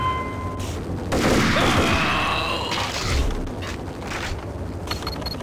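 A firefight in Max Payne, with dense bursts of gunfire crackling over a heavy rumbling roar, a loud volley clustered near the middle and more scattered shots trailing off toward the end.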